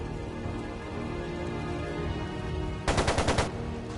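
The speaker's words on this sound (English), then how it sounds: "It sounded like a machine gun." Rapid burst of machine-gun fire from the Trails of Cold Steel II game, about six sharp, evenly spaced shots standing out late over a steady rain-like background hiss.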